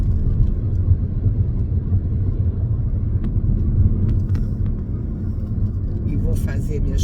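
Inside a moving car, a steady low engine and road rumble carries on throughout, with a few faint clicks and rattles near the end and no clear speech.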